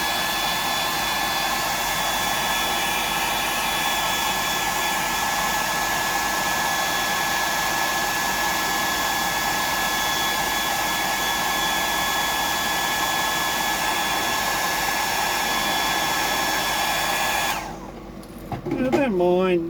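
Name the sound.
hair dryer drying paint on a Bug DD fishing lure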